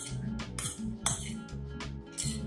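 Fennel, salmon and dressing are tossed in a bowl, with a spoon or utensil clinking and scraping against it in quick, close, uneven taps, alongside a low tonal hum.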